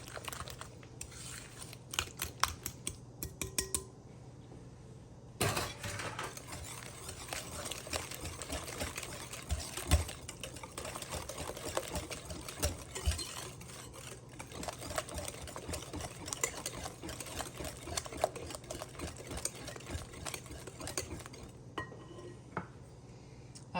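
Sugar being mixed into banana bread batter with room-temperature eggs, a steady mechanical whir with scraping and clinking against the bowl, running continuously and close for most of the stretch.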